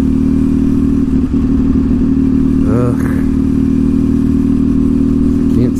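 A motorcycle engine drones loudly and steadily while riding behind a large truck, a constant close hum with a brief pitch sweep midway, and a rider mutters over it.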